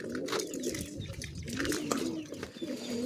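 Pigeons coo inside a coop, low throaty rolling calls repeating close by alongside occasional chirps and some wing flapping.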